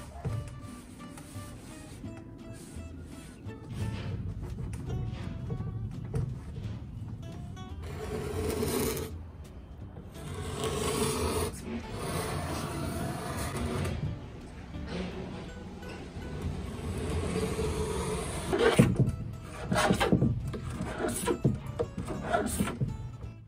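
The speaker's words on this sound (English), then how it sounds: "set to work scraping and sanding the remainder of the paint" Rough rasping and scraping strokes removing paint from a vintage wooden wardrobe, repeated in uneven bursts, fairly close, with occasional bumps and clatter between passes.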